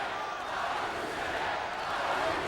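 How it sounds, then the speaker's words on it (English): Wrestling crowd in Hartford at a Chris Jericho versus Batista match, a steady loud roar of cheering from a large arena audience that holds even throughout. "this crowd here in Hartford trying to get behind Chris Jericho"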